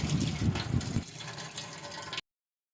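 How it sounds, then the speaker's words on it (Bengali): Lentils, including split chickpeas and red lentils, swished and sloshed in water for about a second, then a quieter trickle and drip that fades out. "এবার আমি ডালগুলোকে আলাদা আলাদা করে ধুয়ে নিব।"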